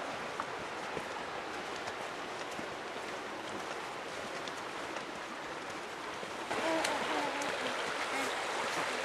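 A creek near Moab, Utah rushes in a steady broadband wash that grows slightly louder toward the end, close by and continuous.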